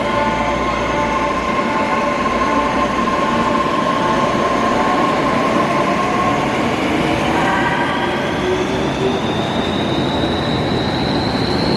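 A subway train rumbles loudly and steadily, with wheels squealing and a rising whine from the motors, no voices.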